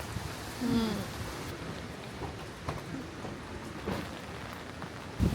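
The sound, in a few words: rain falling outdoors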